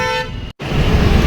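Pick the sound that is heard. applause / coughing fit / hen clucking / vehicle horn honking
vehicle horn honking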